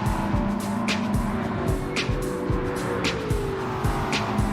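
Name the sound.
race cars driving in video game Gran Turismo 7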